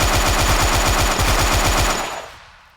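Sten submachine gun firing in a Unity-made third-person shooter game, a loud rapid automatic burst of about two seconds with steady evenly spaced shots, then fading out with no talking.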